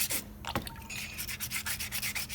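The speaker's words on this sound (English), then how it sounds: "So I'm sanding a little bit the sides of the model" The sides of a plaster dental model are sanded by hand in a dental lab, with a quick run of short rhythmic rasping strokes, close and quiet with no talking.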